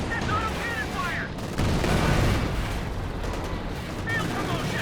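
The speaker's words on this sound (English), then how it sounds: "That's auto-cannon fire." Auto-cannon fire in a Company of Heroes 2 World Championship 2019 match crackles in rapid, dense bursts amid continuous battlefield rumble and explosions, loud and sustained throughout.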